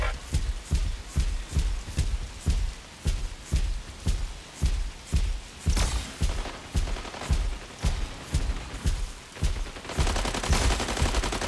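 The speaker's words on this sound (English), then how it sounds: "Incoming fire." Rapid, steady volleys of gunfire from a barrage nade launcher in the mech combat game Mech Arena, loud and close with a rhythmic string of sharp bursts, ending in a denser, continuous rush of noise.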